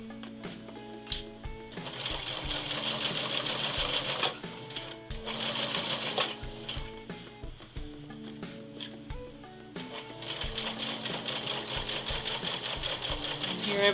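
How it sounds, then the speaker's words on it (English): A sewing machine stitching in the ditch along the waistband of women's pants, running in steady whirring bursts with brief pauses between, close and prominent, with a faint voice in the background. "Stitching in the ditch."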